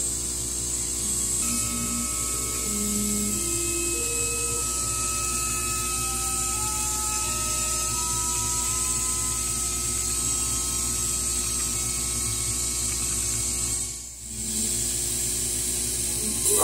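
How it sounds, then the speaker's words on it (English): Laser cutter exhaust blower running steadily while cutting thick wood, a constant broadband whoosh with faint tonal hum and small mechanical movements, a short dip near the end, no talking. "I think my blower is not doing a very good job."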